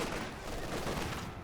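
A DShK heavy machine gun fires during a Company of Heroes 2 battle, a dense rattling burst that stays continuous across the moment amid other gunfire and battle noise.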